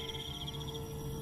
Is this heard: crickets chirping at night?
yes